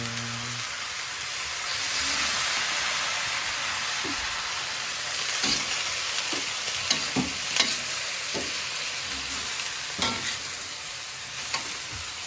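Steady loud sizzle of food frying in a pan as soy sauce is added, with a spoon stirring and scraping in intermittent knocks over the constant hiss in a rural home kitchen.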